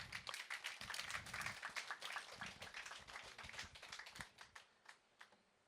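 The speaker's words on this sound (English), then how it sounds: "Please give a warm round of applause for Miss Virginia 𝙤𝙤𝙣𝙠" Audience applause at an award presentation: a faint, dense patter of many hands clapping, sustained for several seconds before thinning out and tapering off near the end.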